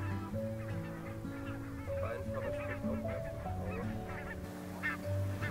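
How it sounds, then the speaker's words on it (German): Geese honking on a lake among ducks and gulls, many overlapping calls from a sizable flock, loud and continuous with no talking. "Neben diversen Entenarten waren hier auch Gänse und Möwen zu beobachten."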